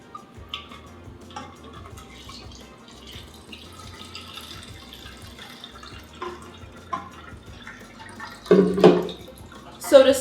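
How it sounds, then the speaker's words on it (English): Milk punch is poured steadily through a strainer, giving a soft, continuous trickle that builds into a louder splash near the end, with no talk over it. "I'm just gonna keep pouring this milk punch over"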